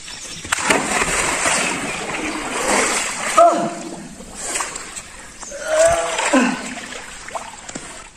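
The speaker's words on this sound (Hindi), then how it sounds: "गाइस मेरा हाथ स्लिप कर गया और मैं डायरेक्ट कुएं में गिर गया।" A person falls into a well on an abandoned farmhouse property, making a loud splash followed by sloshing, echoing water, with voices underneath.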